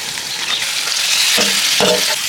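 Loud, continuous sizzling of country chicken frying with onion and tomato in a hot pan outdoors in a forest, with a couple of scraping stirs from a utensil.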